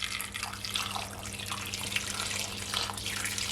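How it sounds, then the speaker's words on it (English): Water from a kettle pours steadily into a cooking pot for boiling potatoes, a faint continuous splashing trickle over a low background hum. "So I'm gonna add some water from my kettle."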